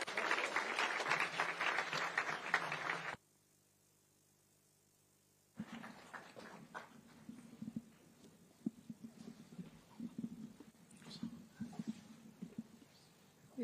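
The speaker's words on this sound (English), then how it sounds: "Thank you, and with a hand clap." Audience hand claps welcoming the First Lady of Kenya as chief guest at an outdoor park visit, a few seconds of brisk clapping cut by a silent gap, then quieter scattered claps and outdoor noise.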